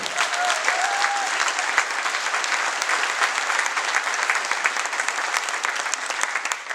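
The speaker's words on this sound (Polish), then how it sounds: "Również gorące brawa." A theatre audience at a Kashubian folk song and dance ensemble performance in Bytów gives warm, sustained applause, a thick even roar of many hands clapping throughout.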